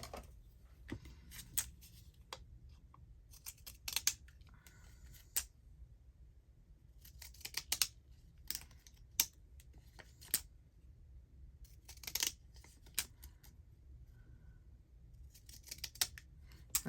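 Scissors snip through paper ephemera during a craft session, with repeated crisp cuts arriving in irregular clusters separated by quiet pauses, close and clear.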